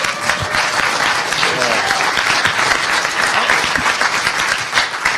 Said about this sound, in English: Good applause line.